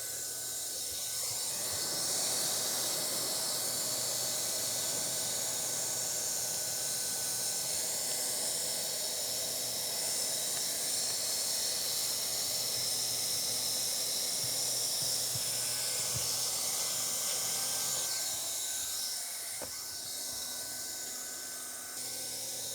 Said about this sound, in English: we are going to weld this piece of flashing to this wall as high and tight as we can get it